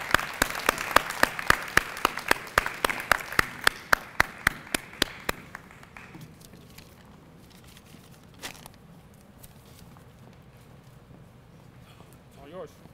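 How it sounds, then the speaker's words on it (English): Rhythmic group clapping for a student at a dual enrollment celebration, loud sharp evenly spaced claps for about six seconds, then settling into murmuring voices and room noise. "Give her a super round of applause"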